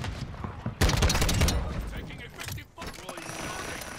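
Lockwood MK2 marksman rifle fired in Call of Duty: Modern Warfare, a sharp burst of several close, loud shots with mechanical clatter and game effects trailing after.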